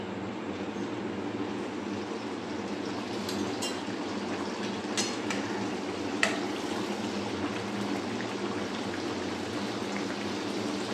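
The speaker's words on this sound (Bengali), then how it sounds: "তেলটা আমার গরম হয়ে গেছে, আমি লুচিগুলো ছেড়ে দিচ্ছি।" Palm-fruit luchi, a fried flatbread, frying in hot oil as a festival dish, giving a steady, even sizzling hiss that fills the whole stretch with a few brief sharper crackles and no voices.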